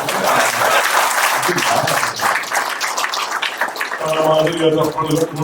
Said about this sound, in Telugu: మీరు బ్రహ్మాండంగా నవ్వుకున్నారు, కానీ చప్పట్లే గట్టి కొట్టలేదని అనిపించింది